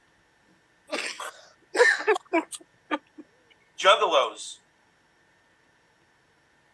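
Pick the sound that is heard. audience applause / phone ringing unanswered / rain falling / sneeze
sneeze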